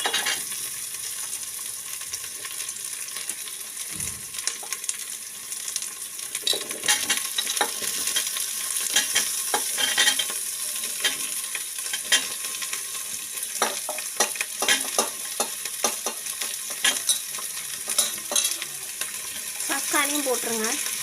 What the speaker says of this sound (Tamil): நல்லா வதக்கிடுங்க.